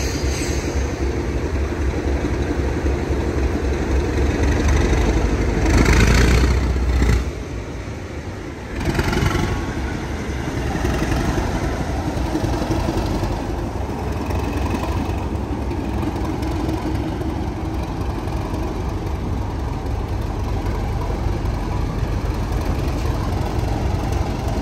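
The steam locomotive Sir Nigel Gresley rumbles backwards along the North Yorkshire Moors Railway, a loud low mechanical drone with a brief burst of hissing near the start before settling into a steady, continuous roll.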